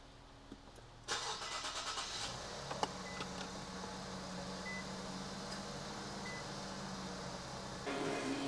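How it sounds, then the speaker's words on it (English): An Infiniti Q50 Red Sport cranks and fires up after cooling work, a sharp burst of starter and engine catch followed by a steady, fairly close idle hum that swells slightly near the end. "I'm gonna go ahead and turn the car on."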